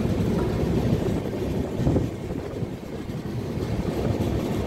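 An Indian electric superfast train running on the Katpadi to Howrah route, heard as a steady, loud low rumble of wheels and carriage noise throughout, with no talk over it.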